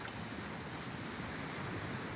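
Morning surf at Surin Beach, Phuket, a steady broadband wash of breaking waves with some wind, continuous and fairly faint, with no voices.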